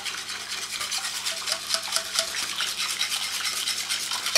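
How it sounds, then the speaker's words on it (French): Homemade chocolate hazelnut spread is stirred in a bowl with a steady, brisk scraping and rubbing rhythm, close and continuous, with no talking. "On mélange parfaitement."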